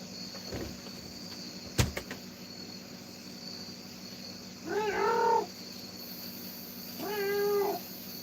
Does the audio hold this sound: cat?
yes